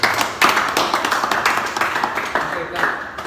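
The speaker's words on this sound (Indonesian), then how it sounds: "Oke, tepuk tangan buat kita semua." A classroom of students claps together in a vocational class on light panel repair with hammer and dolly, bursts of hand claps rising and fading across the room under some talk.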